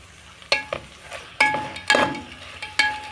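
Crushed garlic fries in a pan while being stirred, several sharp scraping strokes at irregular intervals over a soft sizzle, close and clear without talking.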